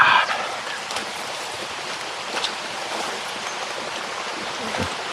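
Continuous soft rushing of flowing water, steady and moderately close, with no voices.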